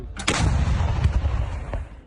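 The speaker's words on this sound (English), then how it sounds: "Cannon fire!" An M777 howitzer artillery cannon fires a loud, booming shot that rolls into a long rumbling echo, with a few sharper cracks following through the rest of the moment.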